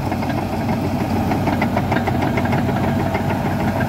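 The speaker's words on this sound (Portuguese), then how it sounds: "O trator tá afindando essa camada e já vou entrar executando já também essa camada aí." A Valtra BH145 tractor engine runs steadily under load while working a road-surfacing layer, a loud, close, continuous rumbling drone with a faint knocking pulse and no talk.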